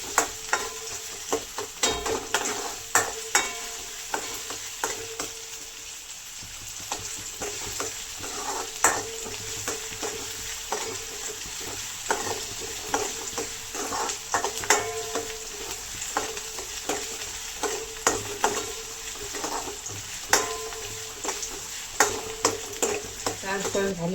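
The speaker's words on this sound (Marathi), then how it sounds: "कांदा चांगला ट्रान्सपरंट होईपर्यंत आपण भाजून घेऊया" Finely chopped onion frying in oil, stirred steadily with a spatula: a constant sizzle overlaid with frequent rhythmic scraping and tapping strokes against the pan throughout, close by.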